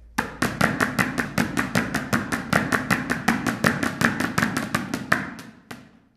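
Rapid, steady rhythmic smacks from a hand-held smacker, sharp close hits repeating about four times a second for several seconds before trailing off.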